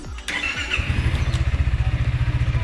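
A Yamaha Tricity 300 three-wheeled scooter cranks briefly on its keyless start, catches, and settles into a close, loud, steadily pulsing idle.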